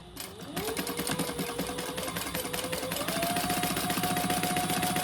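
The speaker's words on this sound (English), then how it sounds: "So I'm just going to top stitch that on this top edge." A sewing machine top stitching along the top edge of a fabric travel organizer runs in a fast, steady mechanical whir, rising slightly in pitch after a brief start, close and continuous.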